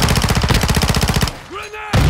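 Rapid automatic gunfire in Call of Duty Modern Warfare 2 multiplayer, a loud close burst of evenly spaced shots that stops abruptly, followed by brief quieter game sounds before another loud burst.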